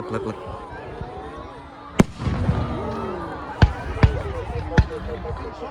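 Fireworks at a Guy Fawkes Bonfire Night display in Newtonhill, Scotland: several sharp, loud bangs burst out at irregular intervals over a steady crackle and crowd murmur, with people talking throughout.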